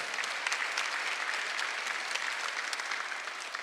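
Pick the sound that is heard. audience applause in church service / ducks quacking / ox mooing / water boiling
audience applause in church service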